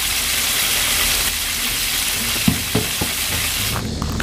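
Fish fries in a pan outdoors with a steady, loud sizzle and crackle filling the background, a few knocks and clatters near the end, while someone talks over it.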